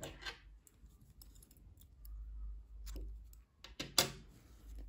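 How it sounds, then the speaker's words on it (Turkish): Scissors snip through crochet yarn in a few brief, close, crisp cuts spaced across a quiet moment, with no talking. "İpliği kesiyorum."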